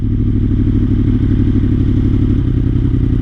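Motorcycle engine idling steadily close by as the clutch is slipped out slightly for a hill start, with a dense low rumble and light mechanical clatter throughout, revs held fairly constant with no talk.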